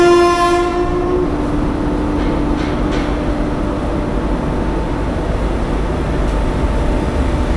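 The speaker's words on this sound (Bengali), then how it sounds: "সামনে থেকে একটা ট্রেন আসছে, তোমাদের দেখাচ্ছি।" An approaching train sounds its horn on arrival at Sainthia Junction: one long, loud horn blast up front, then a steady close rumble of wheels and cars rolling past, with no voices.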